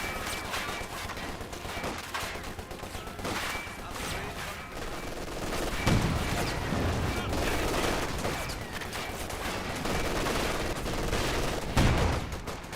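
Sustained automatic gunfire and battle noise from an M15 machine gun in Company of Heroes 2, a dense, continuous rattle with a couple of louder impacts around the middle and end.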